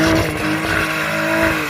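A car skids at a late-night mountain run car meet, its engine droning steadily with tire noise layered on top, loud and close throughout with no voices.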